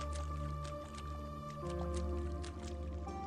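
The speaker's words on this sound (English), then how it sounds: "I cannot sprint through the water." Splashing, squishy steps wade through water in HYPNOS, faint and rhythmic beneath a droning, tonal game soundtrack.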